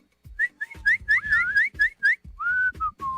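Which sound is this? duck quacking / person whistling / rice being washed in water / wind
person whistling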